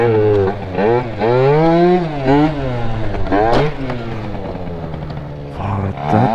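A 70cc Yamaha Aerox scooter engine revs loudly and close by, its whining pitch climbing and falling repeatedly as the throttle is worked.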